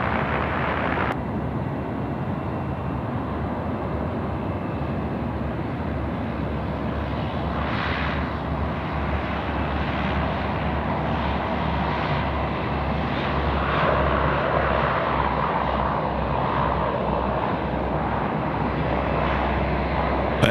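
A UPS cargo jet taxis along a taxiway at Sydney Airport at night, its engines giving a continuous steady whine and rumble that swells slightly toward the end, heard from a distance with no voices.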